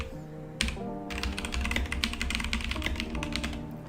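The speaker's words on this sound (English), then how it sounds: "sorry my keyboard is so loud." Rapid clacking of a loud computer keyboard, keys struck in quick irregular bursts over a low steady hum.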